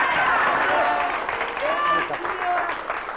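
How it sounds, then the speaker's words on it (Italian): Studio audience applause on a 1982 Italian satirical TV show, steady broadband clapping throughout with some voices and whistles mixed in. "Un applauso."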